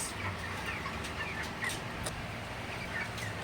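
A flock of broiler roosters kept for weight gain clucks at moderate distance, a steady overlapping murmur of low clucks over constant barn noise, with a few sharper calls standing out.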